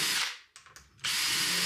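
Power drill bores a hinge hole through a Ryobi hinge jig, its steady high whine cutting out briefly for a short gap with a few clicks before spinning up again, loud and close.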